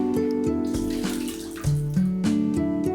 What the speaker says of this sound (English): After that, drain the water.